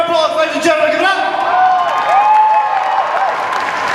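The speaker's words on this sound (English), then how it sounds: "Give them a round of applause, ladies and gentlemen." A convention cosplay contest audience applauds Warhammer 40k cosplayers at Supanova 2016 in Sydney: dense, steady clapping fills the whole stretch, with scattered whoops, cheers and shouts riding on top.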